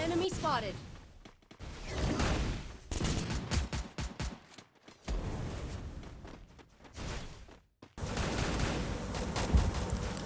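Gunfire rings out during a competitive battle royale match, bursts of rapid shots and mechanical clatter broken by brief silent gaps, with a voice talking over the action.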